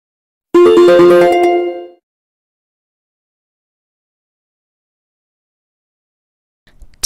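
A telephone ringtone plays once as a short, bright melodic jingle of about a second and a half, followed by silence.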